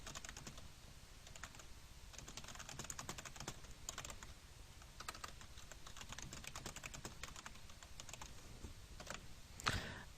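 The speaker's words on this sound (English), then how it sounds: "Let's go ahead and type that statement out." Typing on a computer keyboard, with steady clusters of close, quiet key clicks running through the whole stretch and one slightly louder burst near the end. No one speaks.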